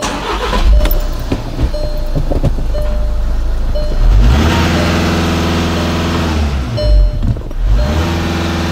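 Diesel engine of a Volkswagen Jetta TDI with DPF and EGR trouble, revving repeatedly in short loud bursts that rise and fall over a steady idle, recorded close up with no talking.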